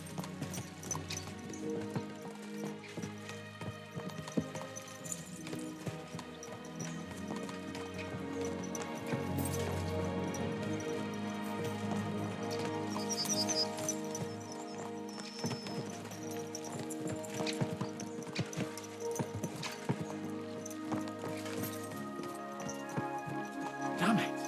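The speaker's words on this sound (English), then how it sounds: "Let's really spur these horses on, eh?" Horses galloping in the video game Kingdom Come: Deliverance 2, with a steady rapid clip-clop of hooves under game music and occasional voices.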